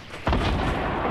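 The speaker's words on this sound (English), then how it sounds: "I'm shooting RPGs at him, dude." An RPG rocket launcher fires in Fortnite Battle Royale, giving one sudden loud booming blast that stays as a thick rumble for the rest of the moment, with no voices over it.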